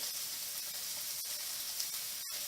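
Meat sizzles against the hot side walls of a wok while fried rice is cooked, giving a steady, close hiss with no pauses or talk.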